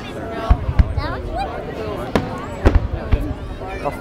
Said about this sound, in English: A falling firework.